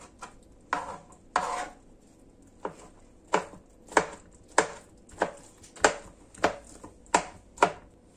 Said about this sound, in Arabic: Je prends la moitié d'un citron confit et je le coupe en petits morceaux.